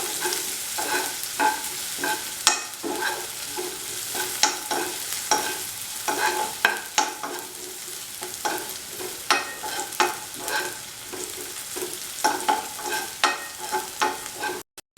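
Onions frying soft to golden brown for a tofu masala, a steady close sizzle broken by frequent sharp scrapes and taps of a utensil stirring the pan throughout, no voices.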